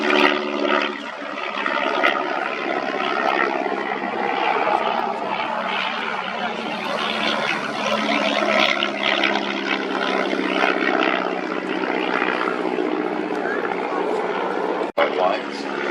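Vintage aircraft fly a tail-chasing display at the Midlands Air Festival, their engines droning as a sustained, steady roar, while a commentator talks over them the whole time.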